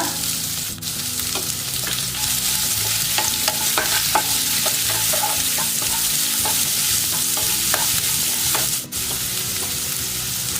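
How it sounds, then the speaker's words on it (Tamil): A medium-sized finely chopped onion sizzles and crackles steadily in a hot pan, with occasional scraping stirs of a utensil close by. "ஒரு மீடியம் சைஸ் ஆனியனை நான் பொடியாக நறுக்கி வச்சுருக்கேன், ஆட் பண்ணிக்கோங்க"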